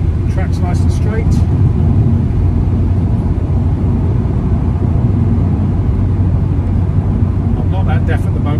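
A VW Scirocco 2.0 GT with a DSG gearbox drives along a straight track, its engine a steady low drone beneath someone talking over it throughout.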